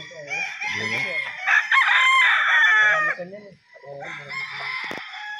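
Gamefowl roosters crowing at a Mount Banahaw game farm in Dolores, Quezon, several loud harmonic crows overlapping in close succession, with clucking and other birds faintly underneath.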